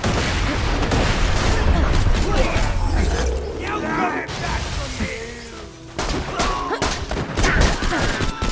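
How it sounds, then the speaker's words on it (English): A grenade explodes amid continuous gunfire in a Borderlands 2 firefight, loud and chaotic, with clattering mechanical sounds and game voices mixed into the dense barrage. "Throwing grenade!"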